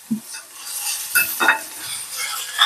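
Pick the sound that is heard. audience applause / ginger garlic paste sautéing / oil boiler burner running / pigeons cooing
ginger garlic paste sautéing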